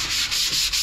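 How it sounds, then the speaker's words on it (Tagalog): Steady back-and-forth rasping of sandpaper on a wooden wardrobe, close and loud, in three or four even strokes. "Ito, nililihan na lang."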